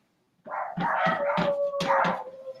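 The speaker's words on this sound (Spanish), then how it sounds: "Ay, tengo muchos perros." Several neighbourhood dogs bark and howl close by in a run of about five sharp barks, blending into a drawn-out howl that carries on to the end.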